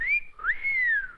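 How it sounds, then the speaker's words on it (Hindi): A person whistles a short two-part phrase, a rising-then-falling note followed by a swooping longer tone, clear and close with no talking. "पुलिस वाली को देखकर सीटी बजाते हो?"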